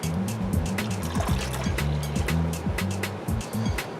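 A cup of water is poured into a container already holding ammonia for soaking a carburetor, giving a close, quick glugging splash and bubbling that lasts a few seconds.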